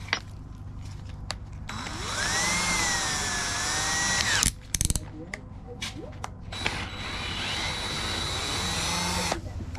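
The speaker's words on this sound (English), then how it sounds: "our next step is the drill out where the bolt used to be" A power drill bores out an old bolt hole in the exhaust manifold of an Edsel, whining at rising and falling pitch in sustained bursts, cutting out briefly midway with clanks, then resuming near and loud.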